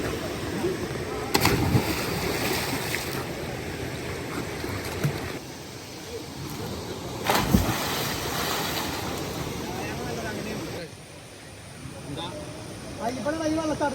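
Rushing water at a waterfall roars as a steady broadband wash, with a few louder bursts of splashing and gusts of wind on the microphone.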